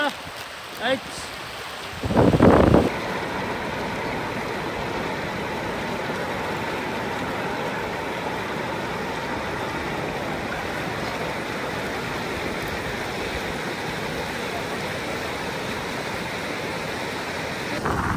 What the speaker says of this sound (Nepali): अनि खोलाको आवाज चाहिँ धेरै नै आइरहेछ होला